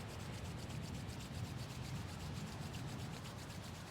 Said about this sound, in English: Next inhale, rub the hands together.